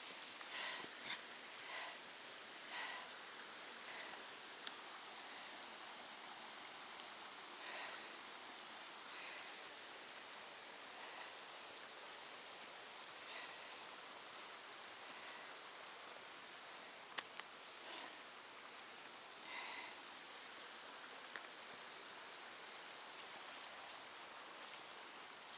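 Waterfall along the Double Run nature trail in Worlds End State Park, a faint, steady rushing hiss of falling water with a few soft rustles and clicks scattered across it.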